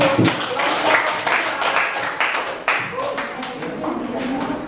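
A classroom group of students applauds a presenting group, a loud cluster of claps with sharp individual taps rising and fading over a few seconds, with some voices mixed in.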